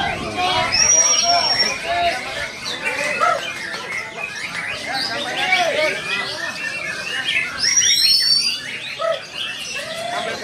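Songbird calls from white-rumped shamas at a routine bird-song training session, clear whistles and chirps repeating over a dense backdrop of other birds and crowd chatter, with voices talking throughout.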